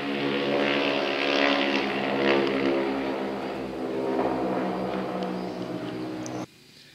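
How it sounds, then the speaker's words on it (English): A propeller aircraft drones steadily overhead, a loud sustained hum with rising and falling pitch, then it cuts off abruptly near the end. "Sound like bomber planes out there, doesn't it?"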